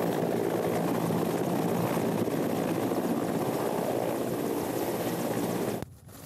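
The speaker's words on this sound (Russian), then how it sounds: "В центре Минска на проспекте Победителей совершил посадку вертолет Ми-8." An Mi-8 helicopter lands on Pobediteley Avenue in central Minsk during a joint training exercise, its rotor and turbine a loud, steady, dense roar that cuts off abruptly near the end.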